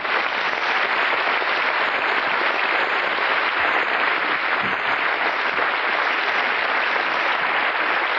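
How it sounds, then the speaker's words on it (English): A studio audience applauds loudly and continuously, a dense, even wash of clapping from many hands that fills the room for the full length without easing off. "Give yourselves a round of applause."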